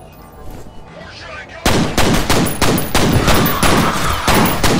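Gunfire in the first-person shooter F.E.A.R.: after a quiet start, a loud burst of rapid shots erupts, with sharp cracks repeating in quick succession for several seconds.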